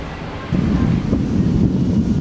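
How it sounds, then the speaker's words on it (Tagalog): Strong wind buffets the microphone while big waves surge and crash along Manila Bay during a super typhoon, a loud, continuous roar with no voices. "Kasabay ng pagpaparamdam na ng malakas na hangin sa ilang bahagi ng Metro Manila, ang hampas din ng malalaking alon sa Manila Bay"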